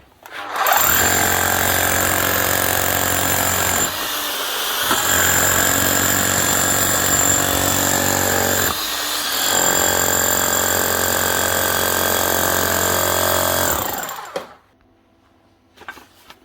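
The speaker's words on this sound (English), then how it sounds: "make sure she's hammering now." A repaired Makita HR4013C rotary hammer in hammer-only mode pounds away in loud, rapid, buzzing bursts, three long runs separated by brief pauses, then stops with a couple of faint clicks.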